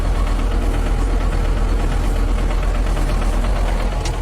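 A loud, steady diesel tractor engine rumbles and knocks close by on a farm, idling with a rhythmic chug and no voices.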